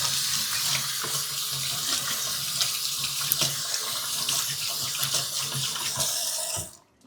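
A kitchen tap runs steadily into a sink while hands are washed, a continuous bright splashing stream with small shifts in flow, close and fairly loud, stopping abruptly at the end, with no talking.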